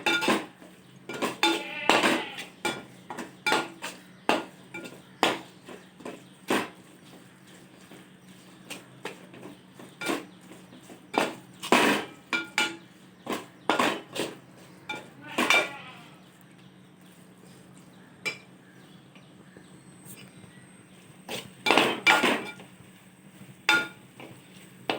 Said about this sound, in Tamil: நல்லா கிளறி கொடுக்கணும்.